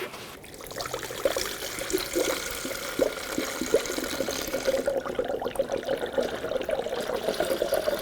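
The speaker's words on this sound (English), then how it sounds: "It's going to bubble for a little bit as the coolant goes into the radiator, air comes out." Coolant gurgles and bubbles steadily into the radiator of a 1997-2006 Jeep Wrangler with a 2.4L engine after a timing belt and water pump job, a close, continuous liquid pour with no talking.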